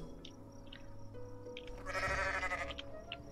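A goat bleats in the video game Goat Simulator MMO, a loud, drawn-out cry rising near the middle over steady game music and scattered chimes.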